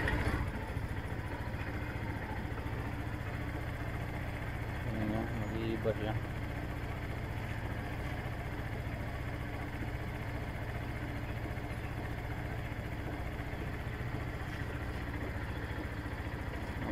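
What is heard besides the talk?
Suzuki Samurai engine idling after ECU reset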